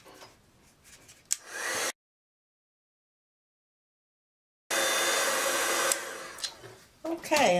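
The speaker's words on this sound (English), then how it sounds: "So I'm going to heat this up with my heat tool." An embossing heat tool blows a steady, loud whoosh over embossing powder in two bursts, switching off for about three seconds of silence in between, with a few small handling clicks.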